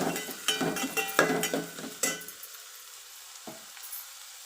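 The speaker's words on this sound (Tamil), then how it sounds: "நான் இதில் வதங்கிறதுக்காக கொஞ்சோண்டு உப்பு சேர்த்து வதக்கிக்கிறேன்." Onions or aromatics sautéing with a little salt in a pan for Tamil egg gravy, with a spatula scraping and stirring in bursts for about two seconds, then a quiet soft sizzle with one more brief scrape.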